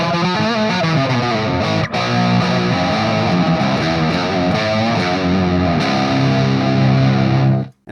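A Greco EG600 electric guitar with DiMarzio Super Distortion and Super 2 pickups, tuned to C, plays distorted chords through a Ceriatone AH50 amplifier, loud and sustained throughout, then cuts off abruptly.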